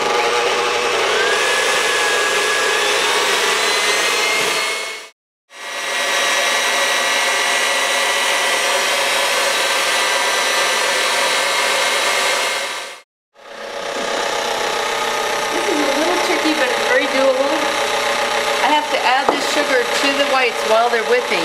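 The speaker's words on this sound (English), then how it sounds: "so I'm only gonna whip them to medium peaks" Electric mixer whipping egg whites with reserved sugar to medium peaks for divinity candy, a steady continuous motor whir filling the clip, cut by two brief pauses, then resuming with a rougher, more varied tone near the end.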